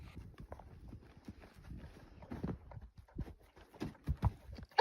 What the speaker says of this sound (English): They put a training dummy on this horse to get him to learn.